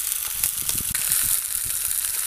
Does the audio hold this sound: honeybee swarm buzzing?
no